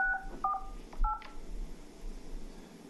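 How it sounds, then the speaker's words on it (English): DTMF keypad tones enter a conference ID on a phone line: a quick run of distinct dual-tone beeps in the first second, then quiet line hiss. "Please enter your conference ID and press the pound key"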